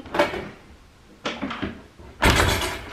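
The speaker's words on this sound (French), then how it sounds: "la porte elle était coincée" A garage door jammed by small stones and grit from building work is forced open in three jerky, scraping heaves, with pauses between them; it is close and loud, and each heave grows harsher.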